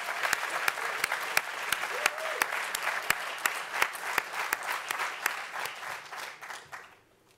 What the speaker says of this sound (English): So please give Professor Luke Williams, Director of the Berkley Center, a round of applause.